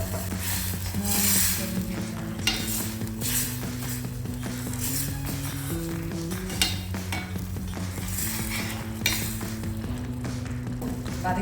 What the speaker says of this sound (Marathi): छान तेल सुटेपर्यंत आपल्याला मिक्स करायचं आहे